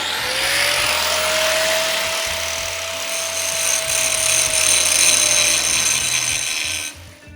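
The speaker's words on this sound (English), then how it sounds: "when you're feathering it, you take your grinder. All we're going to do is barely touch the ends" An angle grinder runs steadily while lightly feathering the ends of a V-groove weld bevel on steel plate, a continuous loud whine with a high tonal hum, cutting off near the end.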